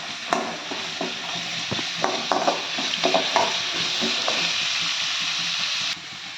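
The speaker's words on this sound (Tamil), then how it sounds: "நல்லா கிளறி கொடுத்துக்கலாம்" A spoon stirs half gooseberry (amla) rice mixture in a hot pan, giving a run of close scraping and light clattering strokes over a soft sizzle that dies down to a quiet steady hiss near the end.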